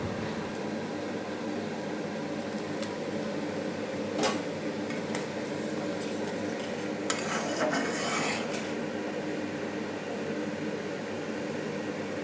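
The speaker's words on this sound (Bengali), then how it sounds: "ঝোলটা আরেকটু ফুটে এলে দুটো কাঁচা লঙ্কা চিড়ে দেবো" Pabda fish curry gravy with mustard and poppy seed simmering in a pan, a low continuous bubbling hiss close by, broken by a few sharp clinks and scrapes of a spoon against metal, with no voices.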